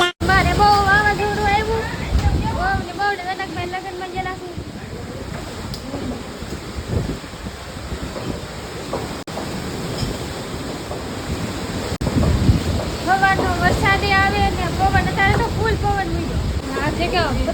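Strong storm wind roars against the microphone in sustained, heavy gusts, loud and close, with rushing noise like surf throughout and a voice speaking briefly at moments.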